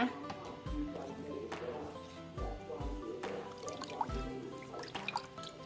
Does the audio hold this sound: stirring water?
yes